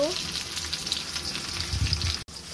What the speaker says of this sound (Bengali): কড়াই বসিয়ে দিয়েছি, দিয়ে দিলাম তেল, পেঁয়াজগুলোকে দিয়ে দিলাম। এবার এগুলোকে ভেজে নেব।